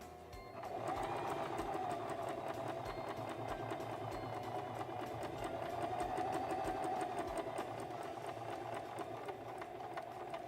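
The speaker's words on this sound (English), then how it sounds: "I'm going to press down on my reverse lever and go back 3 or 4 stitches, and then sew to the end of my fabric." A Singer Promise 1408 sewing machine runs continuously while stitching fabric, giving a steady, close mechanical whir with rapid needle ticking that barely changes for about ten seconds.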